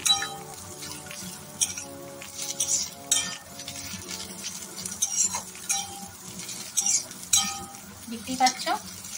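Bitter gourd and potato pieces fry in a pan while a spatula stirs them, clinking and scraping against the metal in irregular bursts over a constant sizzle, with a voice speaking at times.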